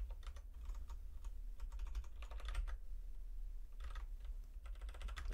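Code being typed on a computer keyboard, with clusters of quick close key clicks separated by short pauses, soft and steady with no talking.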